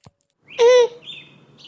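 A single short sparrow chirp in a cartoon, a clear bright call lasting under a second, followed by quieter faint twittering in the background.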